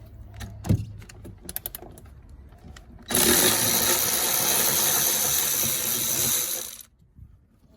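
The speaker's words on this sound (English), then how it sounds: "with a 10mm socket, we're just going to go ahead and remove these 10mm bolts" A 10mm socket wrench loosening bolts from a steel battery tray bracket on a 70 series 4x4: a few ratchet clicks and knocks, then a loud, steady mechanical whir for about four seconds that stops abruptly.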